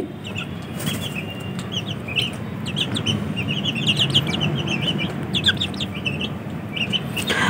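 Chickens cluck and chirp steadily while wings flap in short bursts, a busy, continuous flock noise close by with no talking.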